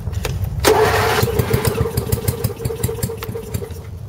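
A 1990 MTD riding mower engine cold-starts on full choke: a sharp crank catches into a loud, choppy, uneven idle that keeps pulsing in a steady rough rhythm, heard up close with no talking.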